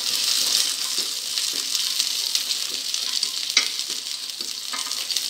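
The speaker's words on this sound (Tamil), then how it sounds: "இப்போ இதில் பச்சை மிளகாய் ரெண்டையும் சேர்த்து வதக்கிக்கலாம்." Green chillies sautéing with garlic in hot oil in a pan for a coriander mint pulao, giving a loud, steady hiss of frying with light, intermittent stirring taps.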